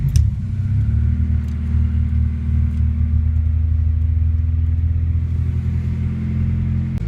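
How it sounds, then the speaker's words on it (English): A Honda Integra engine idles steadily while warming up, a deep continuous rumble with a low drone that holds nearly constant throughout, close and fairly loud with no talking over it. "So I'm gonna let the car warm up,"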